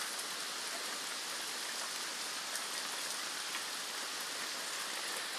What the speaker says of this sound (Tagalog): Sobrang lakas talaga ng ulan mga guys.